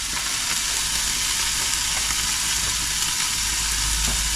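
Chili con carne mix sizzling hard in a hot pan, a loud continuous dense frying hiss with light stirring scrapes running through it.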